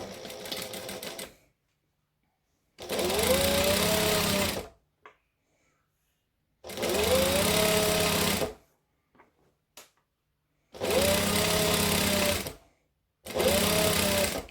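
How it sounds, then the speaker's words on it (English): A sewing machine stitches fabric pieces of a Christmas tree skirt in four sustained bursts of steady whirring, close and loud, separated by quiet pauses. "we're just going to start sewing all of these pieces together in no particular order"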